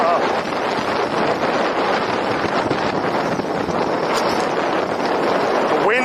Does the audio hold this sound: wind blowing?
yes